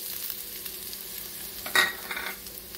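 Grated coconut roasting in ghee in a pan for a sweet kozhukattai filling: a soft, steady sizzle with one brief, louder stirring scrape near the end.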